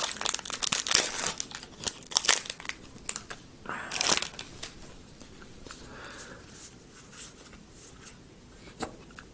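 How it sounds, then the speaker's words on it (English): Aether Revolt booster pack wrappers are torn and crinkled open close by, with sharp bursts of crackling foil followed by softer rustling and a few light handling sounds. "when you're cracking open all these packs"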